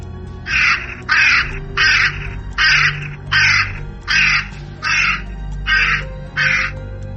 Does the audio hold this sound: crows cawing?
yes